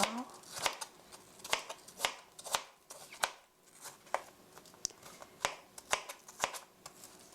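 A knife thinly slicing apple for an apple cinnamon cake, a regular series of crisp close cuts, about two per second, each a sharp short crunch against the board.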